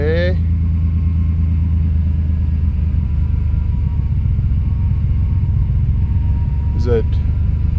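A two-stroke engine idles with a steady low rumble and even throbbing that runs the whole time. Near the end there is a short rising rev, and no voices are heard.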